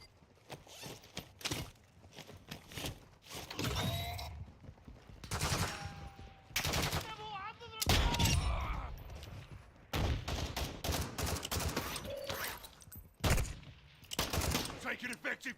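Video game gunfire comes in repeated loud bursts of rapid shots, separated by short pauses. Radio-style voices talk between and over the volleys.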